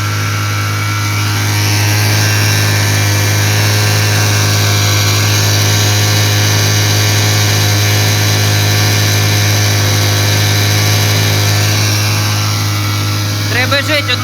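A mini generator's small engine runs steadily and loudly throughout, its revs being raised toward the end, with a steady electrical hum beneath it.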